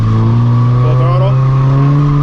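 A car engine held at full throttle during a drift, giving a loud, steady, close droning roar with a voice talking over it.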